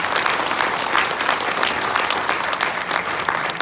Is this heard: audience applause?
yes